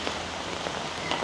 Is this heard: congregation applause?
no